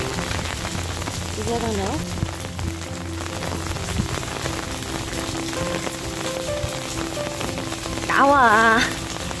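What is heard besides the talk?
rain falling on a rainy day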